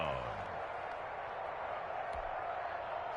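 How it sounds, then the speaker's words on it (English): Stadium crowd roar in a PS4 football video game, a dense, steady wash of noise through the whole stretch as fans rise late in a close game, with a commentator's voice mixed in. "Here comes a big one as this crowd gets up making some noise"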